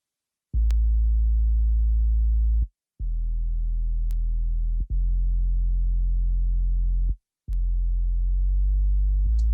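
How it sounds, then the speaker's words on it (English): Raw, unprocessed 808 bass soloed in a beat, deep sine-like sustained notes in several long held hits separated by short gaps, each starting with a faint click and smoothly gliding in pitch. "I'm gonna solo the 808 in this record, and I already bypassed all the plugins just so y'all can hear the raw 808."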